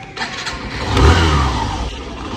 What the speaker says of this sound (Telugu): ఇక బండి స్టార్ట్ చేద్దామా?